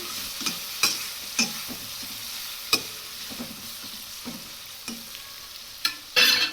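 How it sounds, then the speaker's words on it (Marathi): Tomato chutney with turmeric fried and stirred in a pan: a soft constant sizzle broken by sharp, irregular spoon knocks and scrapes against the metal, close up, with no talking. "वरून थोडीशी हळद कारण हळदीने फक्त कलर येतो कलरसाठी हळद टाकायची आणि पुन्हा असं मिक्स करून घ्यायचं"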